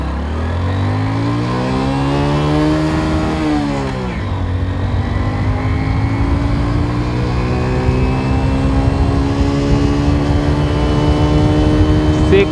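A Hero Super Splendor BS4 motorcycle accelerating hard during a speed test, its engine note rising steadily through one gear, then dipping at a shift and climbing again, loud and close throughout.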